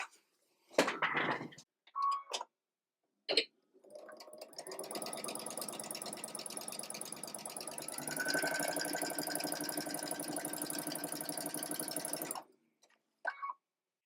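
A sewing machine runs steadily for about eight seconds while stitching quilt fabric triangles along a long edge, preceded by a few short handling clicks and rustles, close and moderately loud.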